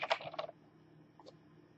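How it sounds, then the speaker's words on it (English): A short burst of computer keyboard typing entering a new router password, several quick close keystrokes in the first half second, then near silence with one faint click later. "So we'll just type in a new password here."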